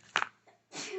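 A single sharp sneeze bursts out close by, followed by a brief pause and then a soft rush of breath or rustling.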